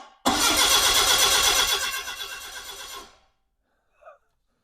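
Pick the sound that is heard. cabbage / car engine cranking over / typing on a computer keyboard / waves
car engine cranking over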